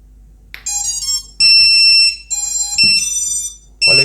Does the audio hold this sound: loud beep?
yes